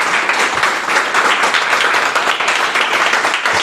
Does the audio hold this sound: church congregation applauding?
yes